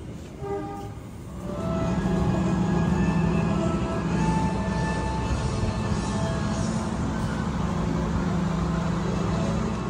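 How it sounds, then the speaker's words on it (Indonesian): Progo passenger train pulling into a station, a loud steady rumble of wheels and engine with tonal horn-like lines, sustained throughout after a brief quieter start, no voices. "jadi ini dia untuk kereta api Progo ya"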